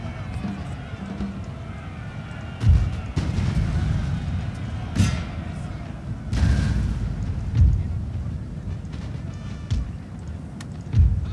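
Heavy booming cannon shots go off at irregular intervals, a few seconds apart, over a constant rumbling battle din with faint voice-like murmurs, in a Napoleonic-era strategy game.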